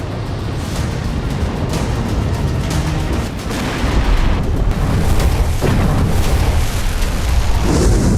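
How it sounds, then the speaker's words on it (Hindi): Repeated heavy booms and blasts from explosions in Tehran during the Iran–Israel war, loud and dense, with rumbling bursts that swell and overlap across the whole stretch. "गाजा युद्ध की तरह तेहरान में अब धमाके पर धमाके हो रहे हैं।"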